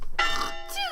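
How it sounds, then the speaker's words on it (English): A clock bell on a university campus strikes in a visual novel game, two bright ringing chimes in quick succession, the second decaying with a falling tone. "the bell of the clock strikes 10"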